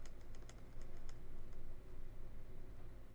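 Steady, even typing on a KBDFans KBD75v2 mechanical keyboard fitted with Alpaca switches, a close run of soft clacks and thocks with no talking.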